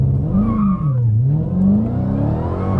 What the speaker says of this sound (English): '22 Dodge Challenger SRT Hellcat Widebody Redeye Jailbreak.